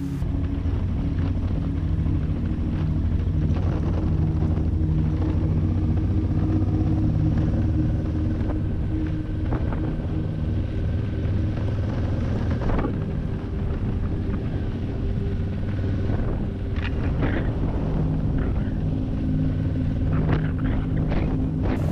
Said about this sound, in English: I decided to ride with my bike over the Swartberg Mountains.